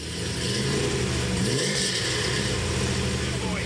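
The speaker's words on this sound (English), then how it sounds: "Just introduced the new LS7 Corvette engine, which is probably the only one in New Zealand" A Chevrolet LS7 Corvette V8 in a car rumbles steadily and swells briefly in a rev, close and fairly loud, with someone talking over it.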